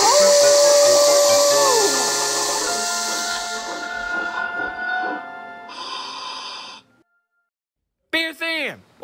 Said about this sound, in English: Poor Peter Sam was leaking steam.